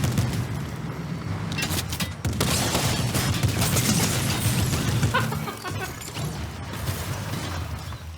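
Dense bursts of gunfire from the video game Fortnite, played on a GTX 1650 graphics card limited to 10 W, crackle steadily over a loud, constant hum of computer fan noise.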